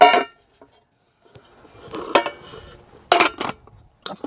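An aluminum steamer insert for a pan being picked up and handled, with a few separate metallic clanks and rattles spaced out between quiet pauses, close by and with no talk.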